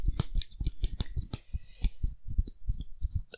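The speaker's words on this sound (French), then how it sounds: "Mélange les 4 cartes." Four playing cards from a card game deck are shuffled by hand, giving a quick series of crisp, close snaps and slaps in an uneven rhythm.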